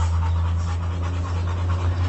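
A Rottweiler pants rapidly and steadily up close, quick rhythmic breaths over a low constant hum, with no talking.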